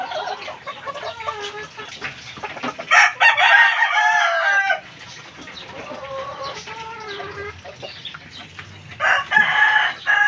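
Rooster crowing several times at moderate distance on a farm, long strained cock-a-doodle-doo calls separated by pauses, with faint clucking from other fowl in between.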